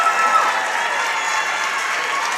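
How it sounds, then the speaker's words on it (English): Dense, continuous applause fills a high school basketball gym during a Lyon County boys game against Caldwell County, holding at an even level throughout with no distinct voices standing out. "Big round of applause here"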